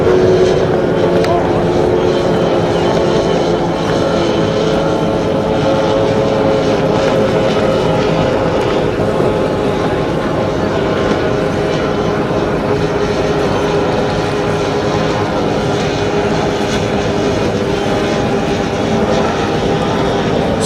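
25 horsepower racing powerboats on the final lap of a powerboat club event run as a steady, loud, continuous engine drone throughout, with a faint commentary voice under it.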